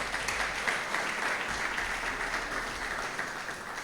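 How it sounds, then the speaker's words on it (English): An audience at a business panel event on corporate governance gives a speaker a steady round of applause, dense, continuous clapping at moderate volume that fades slightly toward the end. "A round of applause for her again."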